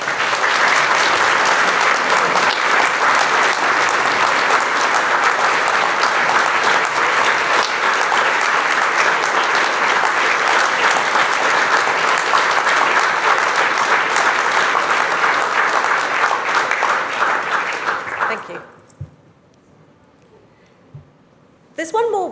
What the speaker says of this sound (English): let's start today's ceremony by giving all our amazing graduates a huge round of applause